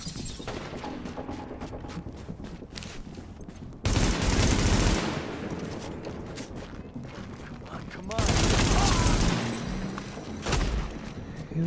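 Bursts of rapid gunfire in the video game The Division, with loud volleys around four and eight seconds over a steady backdrop of game combat noise and a player talking.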